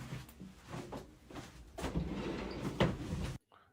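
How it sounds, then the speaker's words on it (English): A folding barn-style door slides open indoors with a drawn-out rumbling scrape and a couple of knocks, fairly close, then stops abruptly into near silence. "It's like a barn door thing that folds up"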